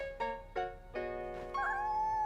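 A cartoon kitten meows in a string of short, tonal cries, three quick mews followed by a longer, rising meow, with nothing else under them.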